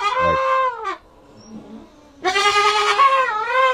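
A goat on a goat farm bleats loudly and close, one wavering cry, a short pause with faint background, then a longer quavering bleat.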